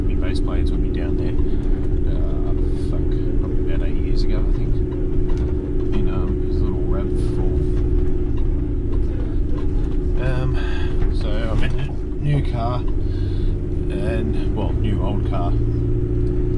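A 2004 Courier car drives along with a steady, loud low engine and road rumble throughout, while a person talks over it.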